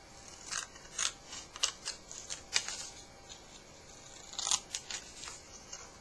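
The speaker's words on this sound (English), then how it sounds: "on the next piece of paper, we're going to cut these 2 corner boxes out" Scissors snip through paper in a quick run of short, crisp cuts, several close together and then a brief pause before a final cluster of snips, heard up close.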